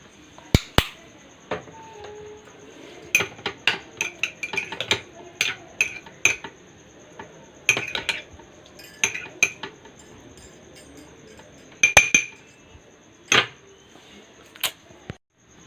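Spoon clinking and scraping in a bowl while tutti frutti pieces are stirred with five food colours: irregular light metallic taps and clinks, close and fairly quiet, coming in scattered bursts.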